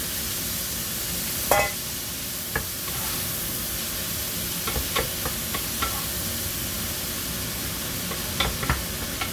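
Tomatoes sizzle in a pan on an induction cooker, a steady hiss of frying broken by a few soft clicks of stirring, close and continuous with no speech.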